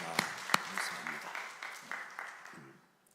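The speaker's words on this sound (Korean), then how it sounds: "하나님께 박수를 올려드립니다" A church congregation applauds during a Sunday worship service, a fairly steady patter of many hands with a few sharp louder claps near the start, fading out over the last second.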